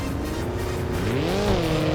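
A car engine in a Roblox game revs steadily, the pitch climbing and then dropping back, loud and continuous with no talking.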